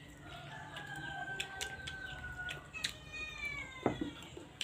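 A cat meows nearby in a drawn-out, wavering cry, followed by a shorter meow, with faint outdoor ambience and distant chicken clucking behind it.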